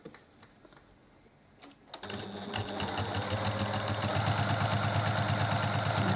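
Sewing machine stitching binding onto the edge of a quilt, starting after a short quiet pause and then running steadily and loudly in a fast, even rhythm to the end.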